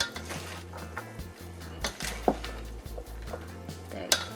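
Kitchen spatulas clink and scrape against pots and pans as one utensil is set down and another picked up while making a lemon and basil chicken salad, scattered close metallic knocks over a low hum.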